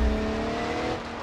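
A race car engine in BeamNG.drive revs hard after a missed gear shift, a loud steady high-pitched drone that holds and then drops slightly in pitch near the end, with no talk over it.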